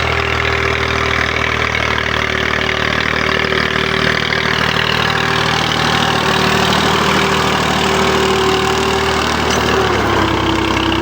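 A tractor engine pulling a plough through a field drones loudly and steadily up close, with a constant humming tone over a low rumble that eases slightly at the very end.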